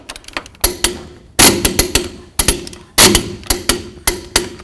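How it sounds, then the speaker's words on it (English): Sharp metallic clacks from a torque wrench tightening the lug nuts on the rear wheel of a 2004-08 Ford F-150 during a rear brake job. The clicks come in close, loud bursts of several quick impacts each, separated by short pauses. "Let's get these torqued to 150 foot-pounds."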